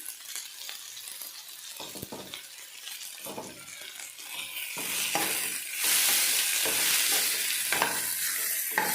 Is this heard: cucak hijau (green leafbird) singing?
no